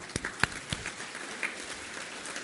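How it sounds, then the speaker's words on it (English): Audience applause at a medical conference inauguration function, a scattered, fairly faint patter of claps with a few sharper individual hits, heard alone without speech. "Let's all give a very big applause."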